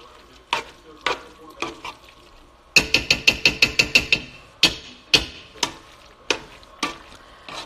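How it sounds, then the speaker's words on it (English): A utensil scrapes and taps through thick cashew butter in a bowl, irregular knocks breaking into a quick run of rapid stirring clacks, close and loud. "So we're mixing the cashew butter in, and now it's getting thicker"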